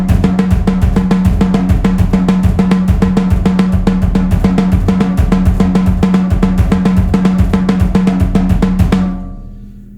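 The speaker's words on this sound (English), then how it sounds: "I'm going to add bass drums filling in." Drum kit playing a dense syncopated phrase, with the bass drum pounding in the gaps between hits, loud and close in a constant driving pattern before a ringing stop.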